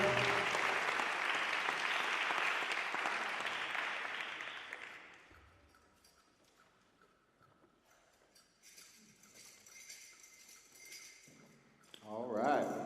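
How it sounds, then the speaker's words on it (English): Audience applause after a dance performance at a Central Plains dance event, loud clapping that fades out over about five seconds, followed by quieter room noise, faint footsteps and a brief voice near the end. "Big round of applause for our daughter, Nadia Valderos"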